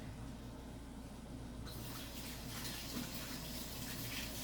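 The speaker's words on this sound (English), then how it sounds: "I'm going to go wash my hands real quick." Tap water runs steadily into a sink for hand washing in a home kitchen, a soft continuous hiss that swells louder partway through, with no talking.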